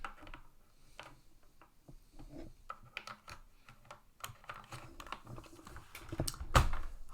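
Fast typing on a computer keyboard during operating-system development work, a close, irregular run of light key clicks that grows busier toward the end, with one sharp louder hit near the close.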